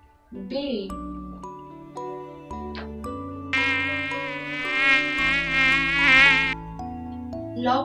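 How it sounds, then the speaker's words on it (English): A bee buzzes steadily for about three seconds in the middle of the clip, a sustained insect drone set against a background of light music with tinkling, chiming notes. "Bee."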